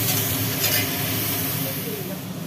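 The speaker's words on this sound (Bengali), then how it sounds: "পটলগুলোকে এখন ভাজা হচ্ছে।" Pointed gourd fries in hot oil in a wok, giving a loud, dense, continuous sizzle with a steamy hiss throughout.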